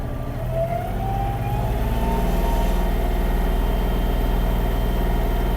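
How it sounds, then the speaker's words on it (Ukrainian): A Kubota GL-29 Japanese mini tractor engine runs at its lowest speed, a steady, even low drone with a faint rising whine, continuous and close with no talk. "Давайте я вам ще покажу мінімальну швидкість трактора"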